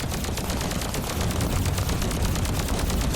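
Sustained heavy gunfire in the PVE extraction shooter Polaris, a dense, continuous barrage of rapid automatic shots with booming low rumble, loud and close throughout with no talking.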